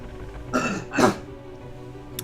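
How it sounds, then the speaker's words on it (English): Two short, harsh coughs close to the microphone, about half a second apart, followed by quiet. "Sorry, I had to cough on video here."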